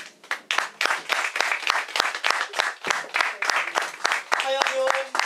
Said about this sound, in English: give a round of applause to the illustrious